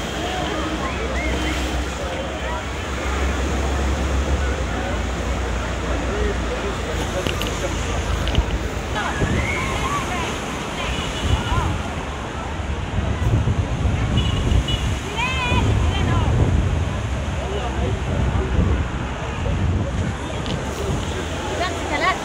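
Surf washing onto an Alexandria beach on the Mediterranean after a storm has passed, a steady broad wash of waves with wind rumble on the microphone and a busy crowd of beachgoers chattering throughout.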